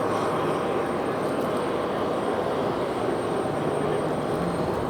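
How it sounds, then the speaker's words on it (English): An Emirates Airbus A380 taxis at JFK airport, producing a broad, steady jet-engine roar at moderate distance, constant and unbroken for the whole stretch with no talk. "That little Emirates little A380 back there, taxiing"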